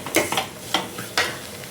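Ivy gourd (kovakkai) and masala fry in a pan while a spoon stirs them, giving three or four brief scraping sweeps over a soft sizzle, close and moderately loud, with no voices.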